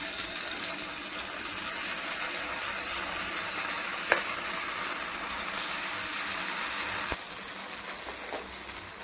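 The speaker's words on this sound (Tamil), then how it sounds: "ஆயில் இதில் கொஞ்சம் கொஞ்சமாக ஊற்றிக்கலாம்" Oil sizzles in a kuzhi paniyaram pan on the stove while spicy paniyaram cook: a steady, close, bright hiss, with a couple of sharp clicks and no talking.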